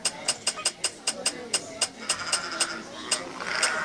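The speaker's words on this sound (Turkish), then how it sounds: "Oo, keçi." A goat bleats in the Minecraft video game: a series of short, evenly spaced sharp clicks or cries repeat about a dozen times over a few seconds, fairly close and moderately loud, with no talking.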